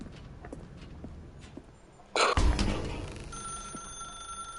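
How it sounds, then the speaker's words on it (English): A telephone in a video game starts ringing after a few quiet footstep-like taps, with a sudden loud burst that settles into a sustained bright ringing tone. "Now pick up the phone"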